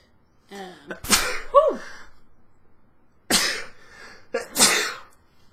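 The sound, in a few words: sneeze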